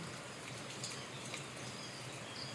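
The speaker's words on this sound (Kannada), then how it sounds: "ಬೆಳ್ ಬೆಳಗ್ಗೆ ಮಳೆ ಹುಯ್ಯೋದು ಚಂದನೇ ಚೆನ್ನಾಗೈತೆ ವಾತಾವರಣ ಎಲ್ಲ" Morning rain falling steadily outdoors, a faint, even hiss of drops with occasional soft patters and no talking.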